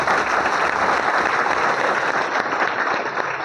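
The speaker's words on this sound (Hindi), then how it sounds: "के एन वसुपाल साहब के लिए 100 तालियां।" Sustained applause from an audience at a DXN business gathering in India, a dense, steady wash of clapping hands filling the whole stretch without pause or talk.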